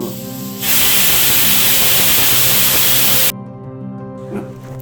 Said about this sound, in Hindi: कुकर की सीटी बज गई